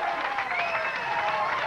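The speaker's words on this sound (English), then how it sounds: "Big round of applause" An audience applauding after a winning final-ball fill in a televised candlepin bowling match, a continuous dense wash of clapping from a crowd, steady and fairly loud throughout.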